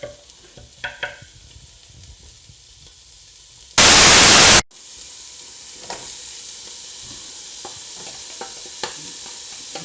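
Onions, carrots and lardons browning in a cast-iron cocotte over high heat, making a soft, steady sizzle with occasional crackles and stirring sounds, interrupted briefly by a loud burst of white noise.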